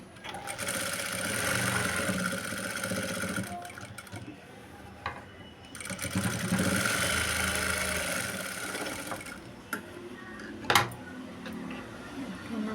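A sewing machine runs in two long bursts of steady mechanical whirring while stitching a double stitch on a blouse, with a short pause between runs and a sharp click near the end.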